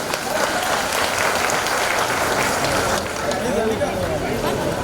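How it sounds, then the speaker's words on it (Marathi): Performing artists at a folk-singers' gathering clap continuously to welcome arriving guests, a loud sustained wash of applause with crowd voices mixed in throughout. "सर्व कलावंतांना विनंती करतो की त्यांनी टाळ्या वाजवून त्यांचं स्वागत करावं."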